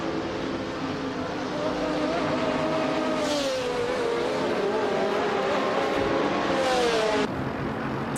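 Several racing car engines in a video game, including a Morgan Aero 8 GT2, drone steadily with shifting pitch throughout, a continuous layered roar with a brief tonal whine rising and falling mid-way.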